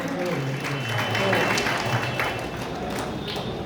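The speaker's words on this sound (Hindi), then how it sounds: "पूरी तालियां बजाने बजाओ बढ़िया सी" At a Holi get-together held by a bar association and library, a crowd claps in a steady, thick wash of applause mixed with a few thuds, while voices carry through underneath.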